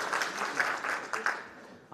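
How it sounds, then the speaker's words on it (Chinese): Short, clustered applause during a live-streamed mathematics lecture on geometric applications, with a few sharp claps standing out before it fades. "你们的掌声在不断的抚慰我的受伤的心灵啊"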